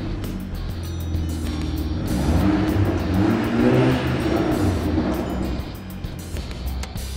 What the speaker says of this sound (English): it's a good idea to turn your car on to make sure everything's working properly.